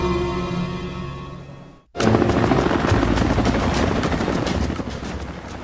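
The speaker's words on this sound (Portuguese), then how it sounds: "Um helicóptero com uma falha de projeto." Helicopter in flight, a loud broadband rotor and engine roar that cuts in suddenly after a brief near-silence and then holds steady and close for several seconds, following a quieter droning passage.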